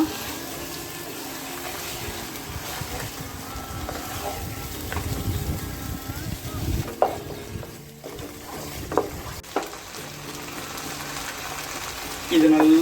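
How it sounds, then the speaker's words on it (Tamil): Chicken with mint and lemon frying in a pan, a steady wet sizzle with clinks and stirring scrapes, loud and close throughout. "இது நல்லா ஃப்ரை பண்ணிக்கோங்க."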